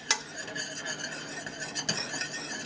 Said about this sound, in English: So you see it's starting to get a little thicker as I pull my whisk through.